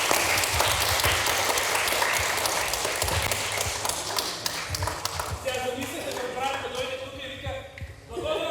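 Audience applause for a man called up to the front, a crowd's clapping fills the first half and then fades as voices start talking over it.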